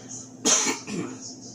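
A single short cough, close and clear, followed by a brief softer throat sound against a quiet background.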